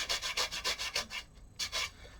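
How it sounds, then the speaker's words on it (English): Rhythmic rubbing strokes over a leather shoe sole during a Church's sole and heel repair at a cobbler's bench, about eight quick close brushing passes, a brief pause, then two more. "Rub over the sole."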